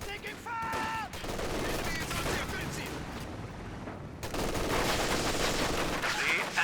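Machine gun spraying incendiary rounds in a Company of Heroes 2 battle, a dense crackling stream of rapid fire that runs almost nonstop, with a brief lull before it surges louder.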